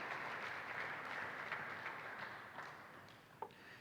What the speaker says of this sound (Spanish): Démosle palmas a nuestro buen Dios